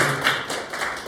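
Brief clapping from the audience at a lecture on learning facilitation, a short burst of scattered hand claps at moderate loudness with no talk.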